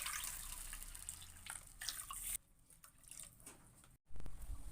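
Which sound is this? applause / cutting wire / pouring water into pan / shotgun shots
pouring water into pan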